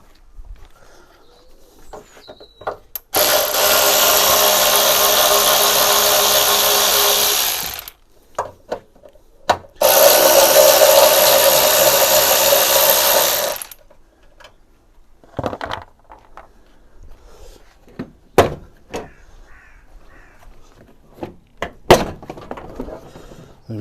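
Power tool buzzing in two long sustained bursts while removing screws from the bumper of a crashed Fiat 500, followed by scattered clicks, clunks and handling noises.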